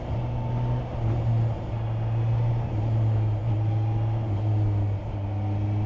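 Steady low drone of a 2020 Kawasaki Ninja H2 SX engine held at 4,000 RPM in third gear during slow riding, loud and continuous with faint wind noise over it and no talking.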